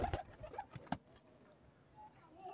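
Rampuri pigeons in a loft: a few sharp clicks and flutters up front, then faint, low cooing that fades into quiet background.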